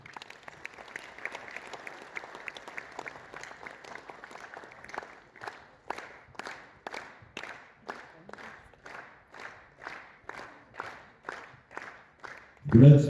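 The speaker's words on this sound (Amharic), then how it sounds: "አጨብጭቡላቸው።" Audience at an Ethiopian awards stage event clapping, a dense applause that thins into rhythmic unison claps beating steadily to the end, with a loud thump at the close.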